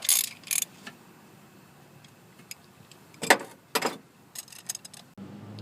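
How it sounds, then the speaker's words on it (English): A half-inch ratchet turns out the spark plugs on a Ford Focus 2.0L Duratec engine with 108,000 miles on the plugs. Short bursts of close ratcheting clicks and metallic clatter break up an otherwise quiet stretch. "I'm using the 1/2-inch ratchet to pull them out."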